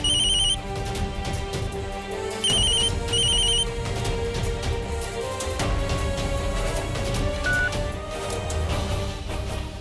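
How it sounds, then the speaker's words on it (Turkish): A telephone rings unanswered in bursts of electronic trilling, repeating several times over tense dramatic music. "Aç telefonu Lakşa."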